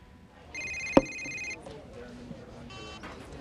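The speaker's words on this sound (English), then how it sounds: "Miguel, pick up the phone." A telephone rings once in a short electronic burst, with a second fainter ring following after a pause, set against quiet room tone in a television drama scene.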